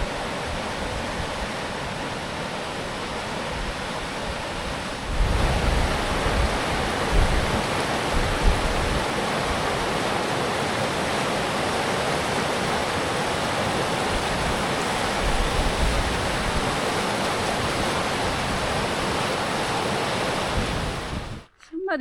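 Rushing river water fills the Gargantas del Diablo gorge in Argentina, a loud, steady broadband roar that grows fuller after a few seconds and holds unbroken for about twenty seconds before cutting off.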